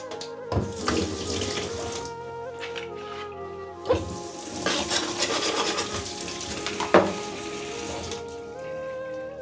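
Tap water runs steadily into a kitchen sink while freshly chopped chillies are rinsed, a continuous splashing stream with a few sharper knocks and clatters, close and fairly quiet, with no talking.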